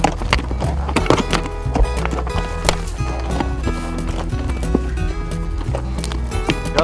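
A line of horses on a guided ranch tour at Bar 10 Ranch, their hooves giving a steady clip-clop beneath music that plays throughout.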